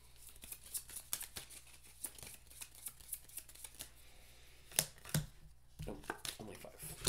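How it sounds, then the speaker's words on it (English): Cards for the Marvel Legendary deck-building game are shuffled by hand, giving a quiet, quick run of papery riffles and soft clicks that are close and brief, with no talking over them. "Gotta shuffle."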